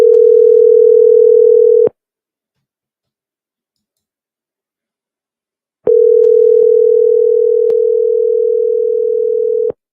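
A phone call rings out while waiting for an answer: a steady, loud single tone holds for about two seconds, pauses for four seconds of silence, then resumes with faint clicks, no voices.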